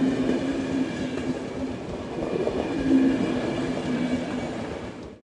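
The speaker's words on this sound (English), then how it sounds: "Passenger train." Passenger train rolls past with steady wheel clatter and rail rumble, a faint squealing tone on top, fading out at the end.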